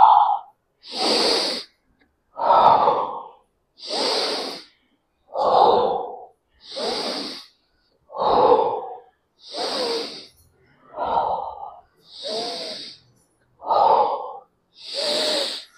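Rhythmic, forceful breaths during a morning yoga class, roughly eleven strong exhales and inhales alternating about every 1.3 seconds, close and loud with no talking in between.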